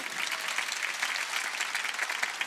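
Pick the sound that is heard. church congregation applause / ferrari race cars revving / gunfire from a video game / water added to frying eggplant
church congregation applause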